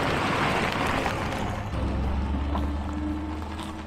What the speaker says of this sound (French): On entend vraiment le moteur depuis l'habitacle, comme si on était dans le compartiment moteur